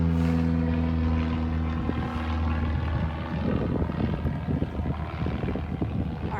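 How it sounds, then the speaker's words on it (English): A propeller airplane passes overhead at an outdoor animal sanctuary, a steady loud droning hum that fills the whole stretch with slight shifts in pitch as it moves. "Sorry, an airplane's going over."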